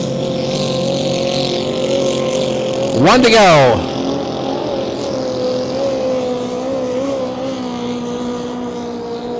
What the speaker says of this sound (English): You can hear that little small boat with the yellow trim rev up as he comes around the turns.